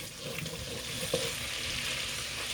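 Butter cooking down in a pan for a simple homemade mac and cheese, giving a faint, steady low sizzle throughout with one brief soft clink partway through.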